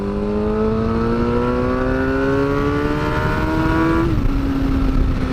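A dirt bike engine revs hard while being ridden round a track, a loud close whining drone that climbs steadily in pitch and drops sharply on a gear change before rising again, with no voices.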